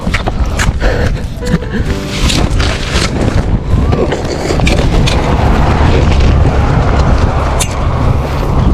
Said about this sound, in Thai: วันนี้ลมแรงนะครับ